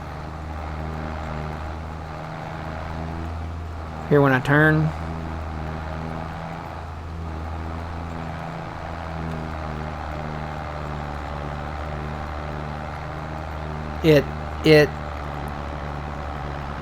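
A tractor engine in Farming Simulator 22 drones steadily and loudly while working uphill under load, a constant low harmonic rumble running throughout, with a person briefly talking over it twice.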